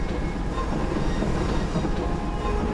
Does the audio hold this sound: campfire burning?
no